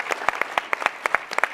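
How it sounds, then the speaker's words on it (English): Short burst of audience applause at a live startup tech conference, scattered sharp claps from a modest crowd, quick and irregular, fairly close with no talking. "All right, let's have one more round of applause for CREAM."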